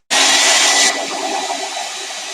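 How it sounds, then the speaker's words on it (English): A hair dryer blasts loudly and steadily on glue, switching on abruptly and then dropping to a slightly lower, softer whoosh partway through. It runs alone with no voices. "Try drying out my glue."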